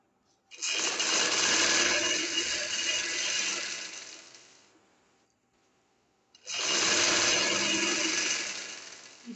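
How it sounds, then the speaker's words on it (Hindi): A sewing machine stitches gum lace onto fabric at the corners, running in two long steady bursts separated by a few seconds of quiet. "अब हम इधर से सिलाई लगाते आएंगे"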